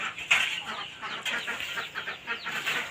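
A flock of chickens clucks and squawks at a rural farmyard feeding time on a cold evening, the fairly faint, irregular calls overlapping at close to middle distance.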